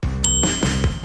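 A single bright bell dings clearly and rings on with a sustained tone, close and loud.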